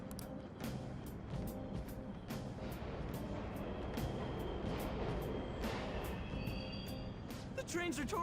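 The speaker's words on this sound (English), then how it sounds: "The trains are totally running." Subway trains run in Persona 5 Royal's Mementos, a continuous rumbling rattle with rhythmic clacks and a faint high screech, over steady game background noise.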